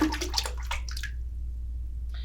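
A homemade wind-up paddle boat toy churns its paddle in water, giving about a second of close, choppy splashing that stops abruptly, then one small splash near the end over a low steady hum.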